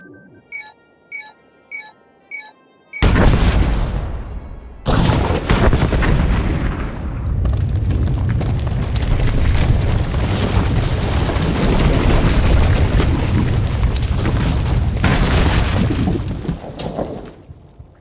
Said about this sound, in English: This is the ground team, preparing to detonate charges.